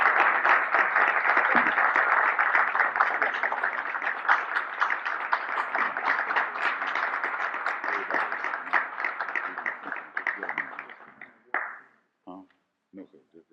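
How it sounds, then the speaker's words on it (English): An audience gives a sustained round of applause to welcome a speaker to a lecture on eating to live. The clapping is dense and steady and fades out near the end, followed by a few isolated claps. "with a warm round of applause"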